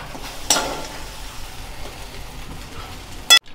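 Cooked masala okra is scooped out of a kadhai into a bowl: a steady background hiss is broken by two sharp scraping clatters of a utensil against the pan, with no talking.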